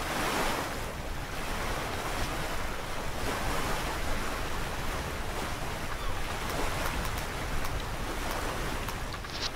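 In the sailing game Sailaway, during a Sydney to Hobart race, waves hit a sailboat's bow. Continuous rushing surf and wind wash stays loud and even throughout, with no voices.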